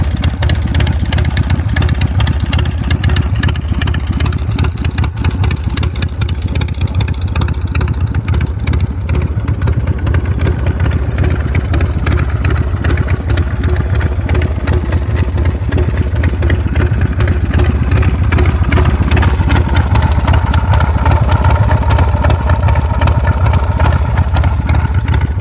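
A Harley Dyna chopper motorcycle idles continuously nearby, a steady, even low engine rumble with no revving, heard alone throughout.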